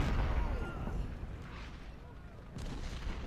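Cannon artillery fire in the Civil War strategy game Ultimate General: Civil War, a dense, continuous rumble of booming shots and battle noise, loud throughout, with a brief fresh swell near the end.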